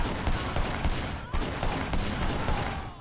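Dense, continuous video game gunfire from the open-world crime game Sleeping Dogs, loud and close with rapid overlapping shots and no pause throughout.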